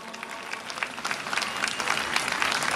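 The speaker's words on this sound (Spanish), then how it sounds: "Tenemos que felicitar y aplaudir a los compañeros que han venido de tan lejos" A crowd at a political congress opening claps in a steady, full round of applause, with scattered sharper claps rising slightly toward the end.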